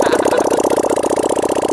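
A V-twin motorcycle engine runs close by in a steady, lumpy rhythm, its deep uneven pulses loud and regular with no voices.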